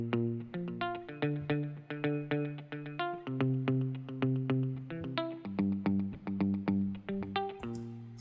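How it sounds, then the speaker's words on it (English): Ample Sound guitar plugin playing a realistic guitar part set to strumming, with a steady run of plucked and strummed chords and notes in a driving rhythm, close and clear with no voices. "I just used the plugin itself to trigger an actual guitar"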